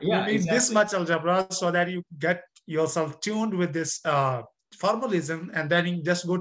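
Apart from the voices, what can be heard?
No everyday noises stand out.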